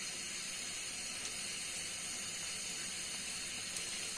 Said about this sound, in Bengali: উল্টিয়ে পাল্টিয়ে ভালো করে ভেজে নিচ্ছি।